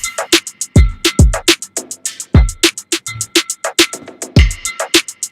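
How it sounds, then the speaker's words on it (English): A programmed drum section from a beat in Studio One plays back alone: punchy kicks with deep low thumps, crisp snare hits and a fast, steady run of bright hi-hats in a tight repeating groove, loud and close. "So I'm gonna play the whole drum section for you guys."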